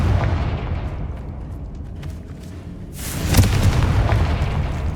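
Confringo spell blasts boom in the Hogwarts Legacy video game, with a rumbling explosion at the start, a brief lull, then a second sharp, louder burst near three seconds that rolls off into a heavy low rumble, no talking.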